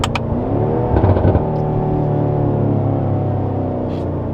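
Sports car engine on a street drive, either a BMW M5 or a Mercedes-AMG GT S, revving and pulling hard with a rising then steady loud roar and a short burst of crackle early on, heard from inside the car.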